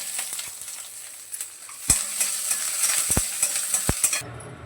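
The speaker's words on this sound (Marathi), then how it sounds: "पटापट वाटण वगैरे भाजून घेते थोडं अगोदर फुटं खोबरं भाजून" Dry coconut masala roasting in a hot pan gives a soft, continuous sizzle, broken by a few sharp clinks of a utensil against the pan, with no talking.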